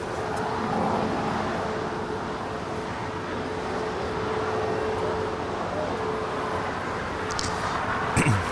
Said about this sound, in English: That is American Airlines Flight 59 departing to Kona. It's a brand new Airbus A321neo.